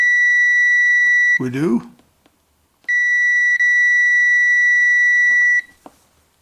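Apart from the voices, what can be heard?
multimeter continuity test beep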